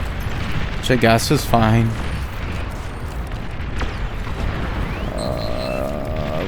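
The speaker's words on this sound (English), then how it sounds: "Cause he's going for a bombing run" Bombing run explosions in the video game Beyond All Reason, a low rumbling boom bed with brief sharp blasts, sitting under a voice and some game tones.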